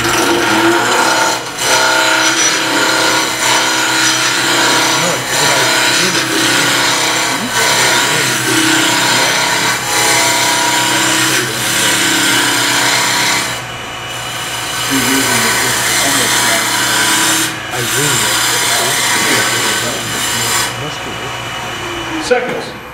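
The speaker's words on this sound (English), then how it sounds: "this is the easiest way to rough something out is just to take my deep fluted gouge" A deep fluted gouge roughs out a wood blank spinning on a lathe at a woodturners' club meeting. A loud, continuous scraping and rumbling cut runs throughout, with brief dips, while a voice speaks over it.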